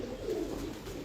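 Pigeons cooing on a rooftop in Gujrat, a soft, continuous low murmur of overlapping coos held close and steady for about a second, with no talk.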